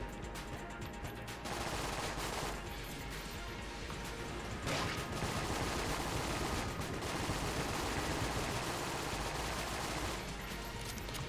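Enemy gunfire in the Enter the Gungeon video game: a dense, continuous barrage of rapid shots and impacts that stays fairly quiet but runs without a break, with no voices.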